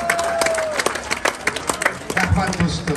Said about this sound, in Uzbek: Bir qarsanglar bilan olqishlab qo'yinglar.